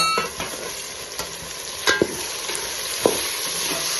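Chopped tomatoes frying with garlic paste in a pan for tomato bath, a steady close sizzle with a few sharp scraping stirs of a spoon against the pan.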